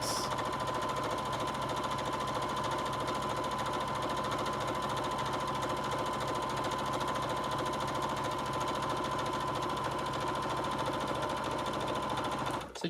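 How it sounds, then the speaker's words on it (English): A sewing machine stitches fabric for a sling bag in one continuous run, its rapid, even mechanical chatter close and steady for the whole stretch before stopping abruptly at the end. "sewing a 1/4 inch down the side there"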